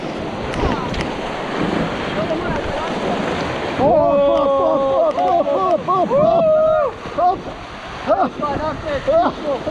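Rushing river rapids during whitewater rafting near Konjic, a dense roar of churning water and wind buffeting close by, with people shouting over it.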